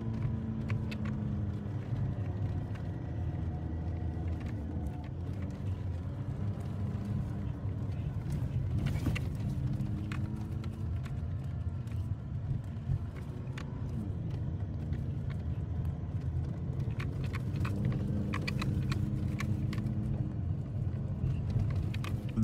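A Jeep crawls along an off-road trail near Spokane, Washington, its engine giving a steady low drone throughout, with intermittent clunks and rattles from the rough ground and occasional faint voices.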